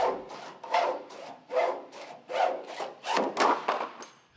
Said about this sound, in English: the abrasive wire just kind of cuts through the adhesive backing as I work it back and forth